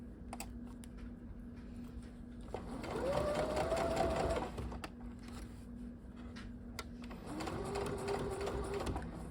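Sewing machine stitching a dart on a half-scale jacket, running in two steady bursts of rapid mechanical clatter with a brief pause between, fairly close and alone.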